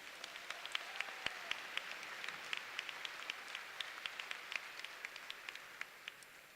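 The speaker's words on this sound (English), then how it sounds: "So give yourselves a round of applause for overcoming that." Graduates and audience at a high school graduation ceremony clapping steadily, a crisp, sustained round of many hands with sharp individual claps standing out, fairly even throughout.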